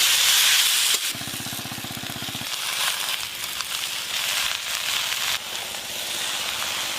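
Spices sizzle in hot oil for catla fish head curry with malabar spinach, a steady hissy fry with a brief low buzzing rumble early on, no talking.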